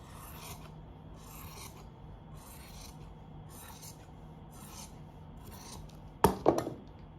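Scissors cutting fabric for a garment sleeve on a tabletop, six or seven quiet evenly spaced rasping snips followed by a sharp clatter near the end, no voices.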